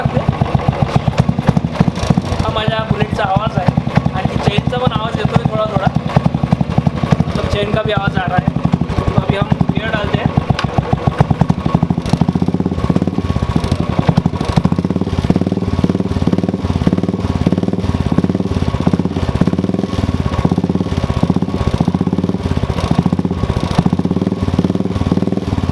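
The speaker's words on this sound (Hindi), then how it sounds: "हा माझ्या बुलेटचा आवाज आहे, आणखी चेनचा पण" A Royal Enfield Bullet motorcycle with a noisy chain runs steadily close by, its engine thumping under a loose metallic clatter, while someone talks over it at first.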